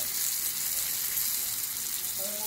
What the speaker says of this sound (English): I'm going to stir fry this delicious goodness. Yes. Squash. Green pepper and onions.